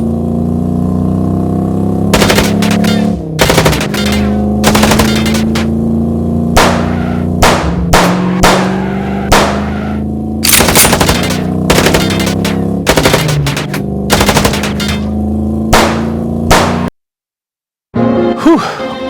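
Gunfire in the video game Chicken Police, sharp bursts of shots and rapid volleys over a droning engine-like background score, loud and close, ending abruptly in a brief silence before sound resumes.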